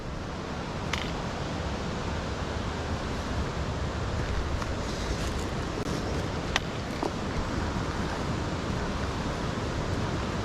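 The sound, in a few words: creek water running along a hiking trail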